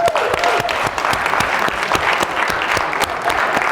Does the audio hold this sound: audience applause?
yes